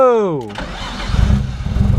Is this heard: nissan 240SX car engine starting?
yes